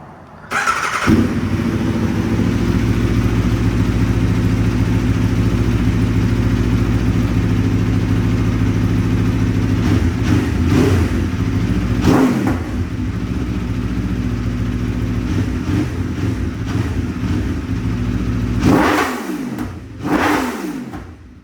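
Aprilia RSV4 sport motorcycle engine running loud and close, holding a steady throaty idle with a few sharp throttle blips and revs near the end.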